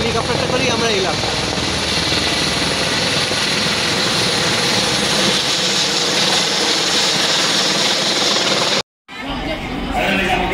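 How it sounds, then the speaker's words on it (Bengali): A helicopter's loud, steady rotor-and-engine roar fills the air with voices underneath. It cuts out abruptly near the end, then resumes more faintly. "এই হেলিকপ্টারটা করেই আমরা এলাম।"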